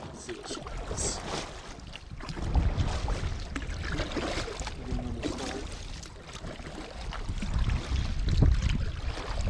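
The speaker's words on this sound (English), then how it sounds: "We're gonna paddle over here to this one area." A Native Watercraft Falcon 11 kayak paddled across open water, with soft splashes and dips of the blade under wind noise, heard up close as a voice speaks quietly at times.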